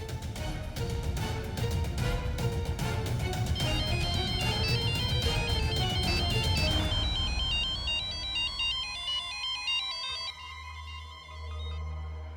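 A phone ringtone plays a repeating melodic tune, fairly loud and close, with no one speaking, then fades into a softer electronic tone.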